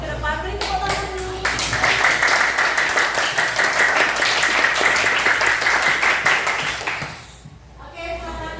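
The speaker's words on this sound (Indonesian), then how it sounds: "Beri tepuk tangan dulu" A class group bursts into applause, steady clapping for several seconds before fading out, with a voice speaking briefly before and after.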